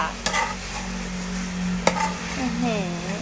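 Pork belly with pickled bamboo shoots sizzling and simmering down in a pan, a steady frying hiss with a couple of sharp utensil clicks and a faint high whistle near the end.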